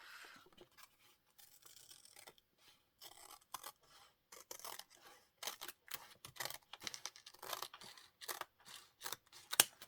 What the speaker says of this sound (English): I'm going to cut that. Let's cut that off.